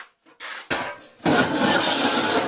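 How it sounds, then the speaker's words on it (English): A wood stove is cleaned out with scraping and clanking metal against the stove, starting with a few sharp knocks and then turning into a continuous close rasp. "So the first thing you want to do is clean out your stove."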